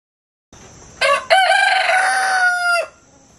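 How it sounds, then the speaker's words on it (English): A rooster crows one loud, close cock-a-doodle-doo on a conservation farm homestead, rising after a short lead-in and holding before cutting off, with quiet ambience around it. "These are our chickens."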